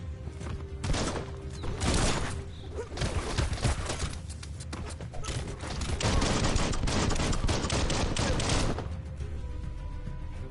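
Dense, loud gunfire and explosive blasting from the video game Biomutant, rapid overlapping shots and bursts pounding almost continuously before cutting off near the end.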